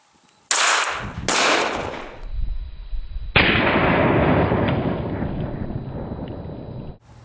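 Gunfire aimed at an ArmorShield Puma NIJ Level II body armor vest: two loud, sharp reports close together, then a third blast trailing into a long, dense roar that fades out after several seconds. No one speaks.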